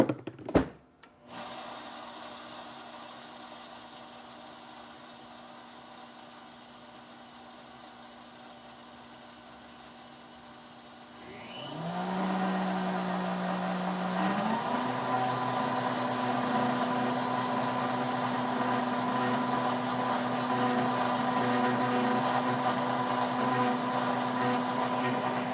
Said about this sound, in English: And we just blend. It will turn into a flour.